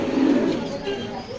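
Racer pigeons coo in a low, steady rumble close by, the soft throaty calls overlapping for a moment with faint background noise.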